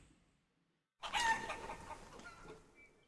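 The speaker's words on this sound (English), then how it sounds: "48 chickens." Chickens on a small farm in the medieval survival game Life is Feudal: Forest Village, a burst of clucking and squawking that starts abruptly after a silent moment and continues close and fairly loud, alone without talk.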